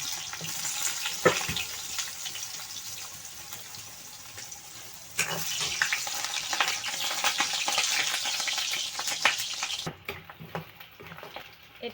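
Potatoes and meat pieces frying in hot oil, a steady broad sizzle with occasional louder crackles and a brief stir; it swells partway through, then drops to a quieter hiss near the end.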